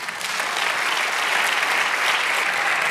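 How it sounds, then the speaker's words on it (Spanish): Congregation in a church breaking into steady, dense applause, a loud sustained wash of clapping that holds evenly throughout with no talking over it. "Dale un aplauso Señor"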